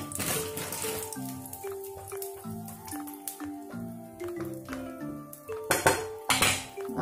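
A tawa griddle is set down and cooking oil is added while bread is prepared for aloo dum biryani: metallic clinks and clatter of cookware over background music, ending in louder knocks.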